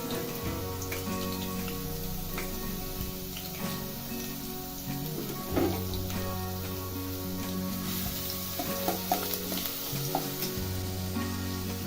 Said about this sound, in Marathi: तेल गरम झालं की पहिला लसूण टाकायचा